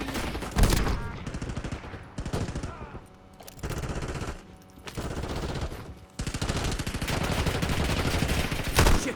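Sustained automatic gunfire in Call of Duty Warzone, with long rattling bursts split by short gaps and a few sharp louder shots, heavy and continuous throughout.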